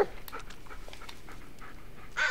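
Dog panting in the Blair Witch video game: quick, steady breathy pants run through the whole short stretch at moderate level, with a louder burst near the end and no talk.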